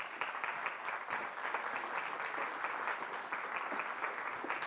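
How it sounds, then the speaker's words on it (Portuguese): An audience applauds steadily as a speaker is welcomed at a talk in Porto, dense clapping from many hands sustained at an even level throughout. "Uma salva de palmas"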